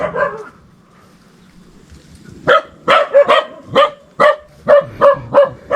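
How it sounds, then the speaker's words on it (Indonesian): Several dogs barking nearby in a rural forest setting, a run of about ten sharp, loud barks in a quick uneven rhythm after a quiet stretch. "Anjing lagi men, banyak banget anjingnya."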